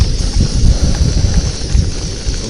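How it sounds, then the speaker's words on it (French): Strong wind in Corsica buffets the microphone in heavy low rumbling gusts, steady and loud throughout with no voices. "il y a un vent de gueudin"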